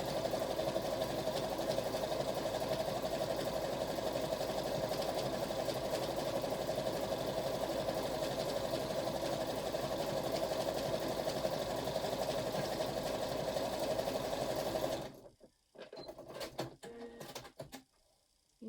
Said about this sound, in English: So I've just rethreaded a new bobbin and rethreaded up my sewing machine and positioned it